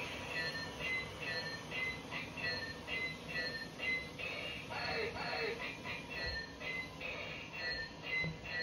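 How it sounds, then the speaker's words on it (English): A small Polar Express toy train runs with a steady whirring motor and rhythmic clicking, faint and close, with a brief squeal now and then. "Here's the train."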